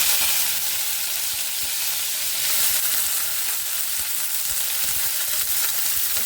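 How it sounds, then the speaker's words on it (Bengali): Vegetables frying in hot oil with panch phoron spices, a loud, continuous close-up sizzle and crackle that stays steady throughout. "এই যে আমি সবজি তেলে দিয়ে দিচ্ছি পাঁচফোড়ন দিয়ে দিচ্ছি"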